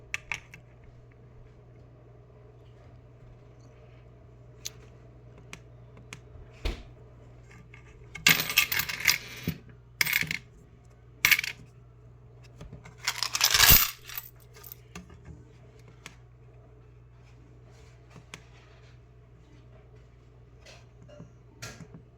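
Silver dimes are dropped onto a digital scale, with scattered small clicks giving way to several bright, clattering bursts of metal coins mid-stretch, close and clear over a quiet room.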